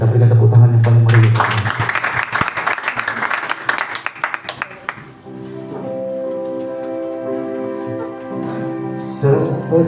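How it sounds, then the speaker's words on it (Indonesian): Church congregation applauding during a Sunday service, a dense burst of clapping in the first few seconds that thins out, followed by sustained music with singing. "Kita berikan tepuk tangan yang paling meriah."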